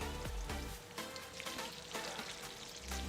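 Salisbury steak patties browning in a frying pan give off a quiet, continuous sizzle with scattered crackling pops, heard close with no talking.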